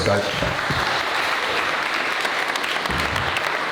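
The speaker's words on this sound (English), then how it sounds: "deserves a round of applause first of all" Steady audience applause at an exclusive Q3 networking event held at the Dilly, a dense continuous wash of clapping that stays even from start to finish, with a voice briefly audible beneath it.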